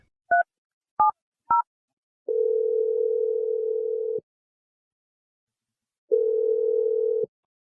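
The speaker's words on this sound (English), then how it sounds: "I'm dialing your number right now." A telephone being dialed: three short, clear keypad tone beeps in quick succession, then two long steady ringing tones separated by a pause, with no voices.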